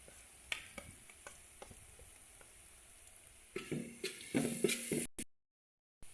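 Chicken curry being stirred as turmeric and coriander powder are mixed in, soft scraping and sizzling in the pan with a few sharp taps, growing busier and louder near the end before cutting off.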